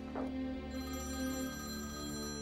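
A telephone rings in a Turkish TV drama scene, its steady electronic ring sounding continuously at moderate volume with a low hum beneath and no talk.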